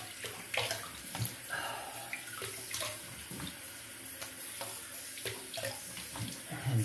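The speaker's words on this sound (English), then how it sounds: "let me rinse off with some cold water" Cold tap water runs steadily into a sink while someone rinses off after a shave with a stainless steel razor, with splashes and soft knocks over the flow at close range.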